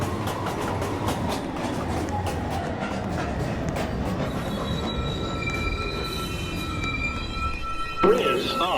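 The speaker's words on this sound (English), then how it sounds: "Downtown, local 1 train. Approaching the station" A downtown local 1 subway train rumbles loudly into the station during the evening rush, wheels squealing in thin high tones over a dense roar, and a recorded voice speaks near the end.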